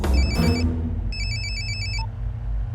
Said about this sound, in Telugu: వీడి సెల్ ఫోన్లో సూర్య నెంబర్ ఉంటుంది, కలిపి